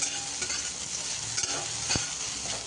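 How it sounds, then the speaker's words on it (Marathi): Whole okra pieces sauté in a pan over high flame, a steady bright sizzle broken by a few stirring scrapes, close and with no voices. "मोठ्या फ्लेमवरती मी हिला छान परतून घेते"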